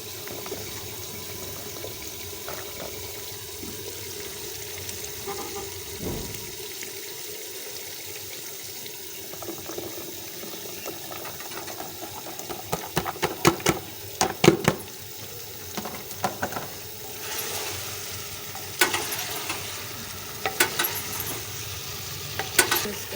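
Cauliflower sizzles and fries in a hot pan for Indian gobi cooking, a steady hiss with scraping stirs and clattering bursts building up, no voices.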